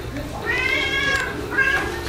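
Cats in a cat cafe in Seoul meow twice in drawn-out, rising calls over a low murmur of room noise and background chatter.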